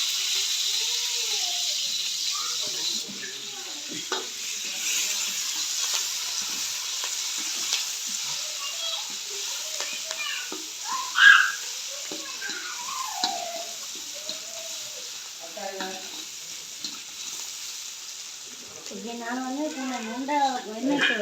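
Onions and green chillies frying in oil in a pan for egg fried rice, a steady close sizzle with stirring scrapes throughout, a sharper spike midway, and a voice talking over it toward the end.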